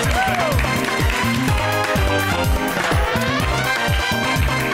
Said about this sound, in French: Lorenzo, applaudissements